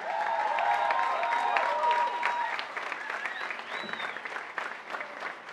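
A concert audience applauds young performers and their teacher at a university event, loud sustained clapping that eases slightly toward the end, with voices and cheers mixed into the crowd.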